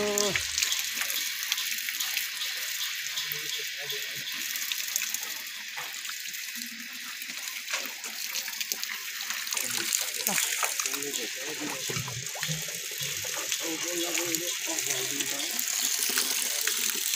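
Water runs steadily from a tap at a shared public water spout, a broad continuous gush with voices talking over it throughout.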